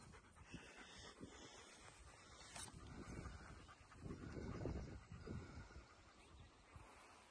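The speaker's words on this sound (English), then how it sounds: "Dogs in the background." Dogs in the background during German Shepherd residential training outdoors, heard as panting and breathy sounds with light wind noise on the microphone, moderately close and continuous, with no talk.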